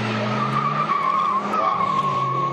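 A Suzuki four-door car pulls away on a test ride, its engine revving steadily with a sustained tire squeal, loud and close with no talk.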